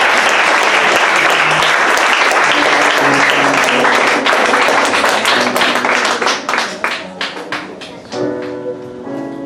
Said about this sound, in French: Est-ce qu'on peut acclamer ensemble le Seigneur du Dieu?